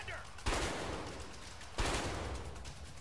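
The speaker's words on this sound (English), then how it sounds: "Shoot the lock." Two sharp gunshots about a second apart, fired at a lock in the video game A Way Out, each loud blast followed by a lingering rumbling tail.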